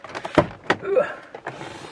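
A Volkswagen Transporter T5 van door being worked, giving two sharp thunks followed by softer rattles and a brief scrape, close by and fairly loud.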